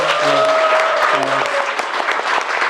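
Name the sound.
audience applause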